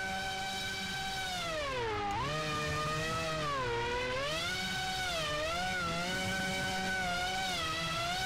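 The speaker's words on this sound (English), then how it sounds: "Let's just drift the whole corner." A car drifting through a corner in the video game SLRR gives a loud, continuous engine whine whose pitch sways up and down, with no gaps across the slide.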